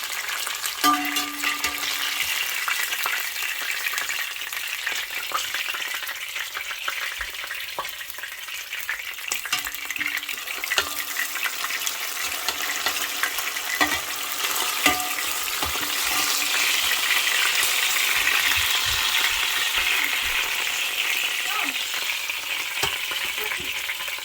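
Fish fries in hot oil with a steady, dense sizzle and crackle that continues throughout, occasionally shifting in intensity; no voices.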